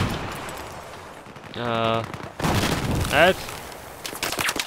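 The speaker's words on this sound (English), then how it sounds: "Definitely people shooting at us." Gunfire in the video game Battlefield 4, bursts of shots and rapid fire from people shooting at the player's balcony, loud and close, mixed with brief talk between players.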